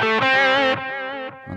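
An electric guitar through a heavy delay preset, without the Steel String Supreme pedal, rings out a few loud distorted sustained notes, each decaying into echoing repeats over about a second and a half.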